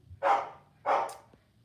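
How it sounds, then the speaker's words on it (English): Two sharp dog barks, about half a second apart, fairly close and loud with nothing else around them. "they're just barking like freaking crazy"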